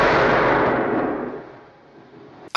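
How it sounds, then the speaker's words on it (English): Gunshot effect from a James Bond gun barrel sequence: a single loud, reverberant blast decaying over about two seconds into quiet, followed by a sharp new hit at the very end. "My absolute favourite gun barrel moment is when the gun is fired here."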